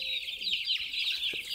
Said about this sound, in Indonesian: Tuki, lihat ayamnya kecil-kecil